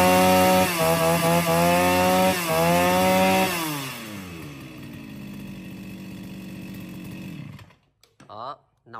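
An M6 chainsaw, a model suited to clearing brush, runs loud and close, holding a high rev, then dropping to a lower whine before cutting off near the end.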